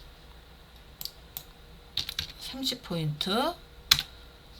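Keys on a computer keyboard clatter in quick clusters as shortcuts are pressed while entering text in a word-processing task, with a voice talking over the typing and sharp isolated clicks.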